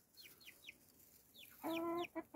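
Chickens in a coop give quiet, soft chirping peeps, then a louder close cluck-like call near the end, amid faint background hiss.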